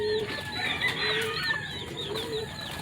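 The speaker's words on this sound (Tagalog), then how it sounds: "Yung mga broodcock, broodhen ko." Brooding hens and breeding cocks cluck in a short run of near, repeated, mid-loud calls over a quiet farmyard background, with no talking.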